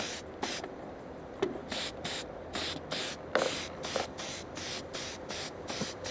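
Sealer coat sprayed onto a Tamiya JS-2 1/16 RC model tank: about a dozen short, close hissing bursts in an even rhythm, with faint clicks between them.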